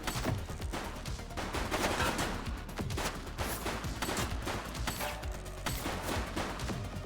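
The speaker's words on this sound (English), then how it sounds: "He's shooting!" Dense, rapid gunfire in the police game The Precinct, a continuous fusillade of overlapping shots with no pauses.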